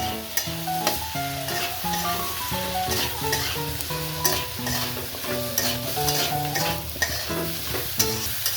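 Ghugni spice masala of Kashmiri chili powder, sugar, cumin, coriander and salt being fried and stirred in a pan: repeated scraping strokes and a soft sizzle, close and moderately loud, over steady background music.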